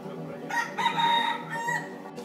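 A rooster crows in a rural yard on Ko Lanta, Thailand, one loud, close cock-a-doodle-doo that rises and holds for about two seconds with no talking over it.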